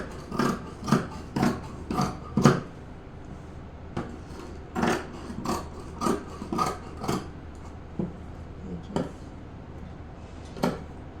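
Scissors cutting blouse sleeve fabric, a regular series of close crisp snips in quick clusters separated by short pauses, alone and fairly quiet.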